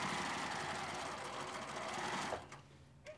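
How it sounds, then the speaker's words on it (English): A sewing machine stitches the full length of a shirt collar, a steady close whirring run that stops abruptly near the end, followed by a brief faint click. "hold down the thread, sew the full length of the collar"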